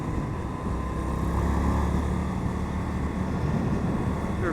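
An Indian FTR 1200 motorcycle cruises in fourth gear at steady speed, its engine a continuous low drone buried in heavy wind roar, constant and close throughout with no talk.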